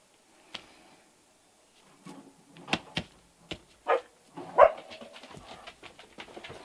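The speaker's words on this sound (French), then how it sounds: "C'est ma petite chienne" A small female dog lets out several short, sharp barks and yips close by, mixed with light knocks and clatter in a quiet room.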